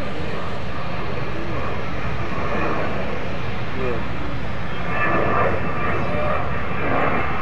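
The Avro Vulcan XH558 jet bomber accelerates away at the 2012 Farnborough International Airshow, a loud continuous engine roar that swells toward the end, heard from the crowd line.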